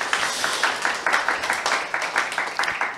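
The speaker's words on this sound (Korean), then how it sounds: "이분들 용기에 우리가 박수로 한번" A seminar audience in a hall claps steadily for newcomers attending for the first time, a dense, even patter of many hands that carries on for the whole stretch without breaking off.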